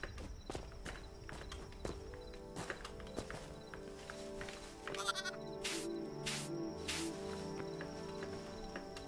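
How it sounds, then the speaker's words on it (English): Small sheep in the video game Hytale bleat softly over gentle background music, with a clear, drawn-out bleat midway through. Light hoof-like footsteps and clip-clop sounds patter throughout at a quiet level. "We got little tiny sheep here, which is very cute."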